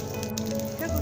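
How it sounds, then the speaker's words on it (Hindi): Mustard seeds and cumin sizzle in a spoonful of hot oil in a pan, a steady close crackle with a few louder pops, for a tempering to go into a chutney. "पैन में 1 चम्मच तेल डाल करके हाफ चम्मच राई डालिए,"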